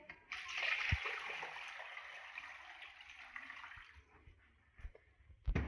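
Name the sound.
pouring water into a pot for salmon bone broth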